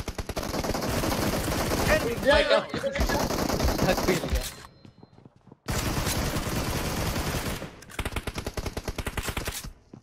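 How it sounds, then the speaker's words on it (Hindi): Pistol gunfire in the PUBG Mobile video game, loud rapid shots fired in quick repeated bursts with brief pauses between, while players talk over it. "मैं पिस्टल चला रहा हूं"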